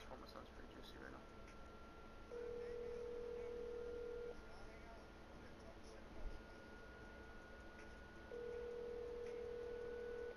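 Phone call ringing out unanswered in Call of Duty: Modern Warfare, with two long steady tonal rings separated by a gap, heard under low background game ambience.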